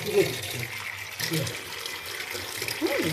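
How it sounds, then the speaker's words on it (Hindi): Pumpkin flowers rinsed under a running kitchen tap, giving a steady hiss of flowing water with soft splashes, heard close alongside someone talking throughout. "इसको नल के नीचे लगा हम ऐसे ही धो लेंगे"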